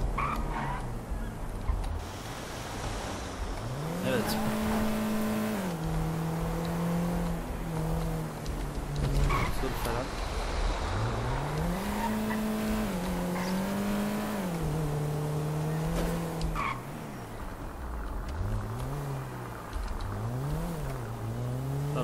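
A car engine in GTA 5 revs up and down repeatedly with whiny, synthetic-sounding pitch sweeps as the car accelerates and shifts, continuous and fairly close.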